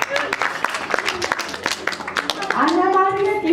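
Scattered hand clapping from a small group at a first-grade school class celebration, uneven and moderately close, with children's voices mixing in toward the end.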